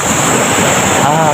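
Sea waves wash onto a tropical beach at sunrise, a steady, loud surf wash mixed with wind rumble on the microphone, continuous throughout with no distinct breaks.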